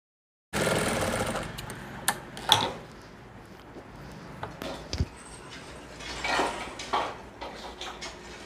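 A sewing machine stitches a handkerchief in steady straight lines, a close continuous mechanical whir with light clicks and knocks, starting abruptly after a brief silence and running without talk.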